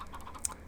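Chickens on a farm in the Minecraft video game cluck softly, one brief clucking call standing out over a low continuous background.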